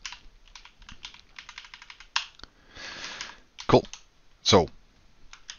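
Code being typed on a computer keyboard during a beginner C# programming lesson, a run of quick clicky keystrokes with a few louder sharp taps, close by, with a brief spoken word partway through.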